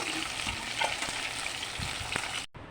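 Kochu stolons (taro runners) frying steadily in hot oil, a continuous close sizzle with a few soft stirring scrapes, cut off abruptly near the end.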